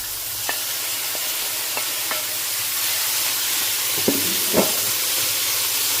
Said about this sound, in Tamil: வெங்காயமும் தக்காளியும் கொஞ்சம் நம்ம வதக்கிக்கலாம்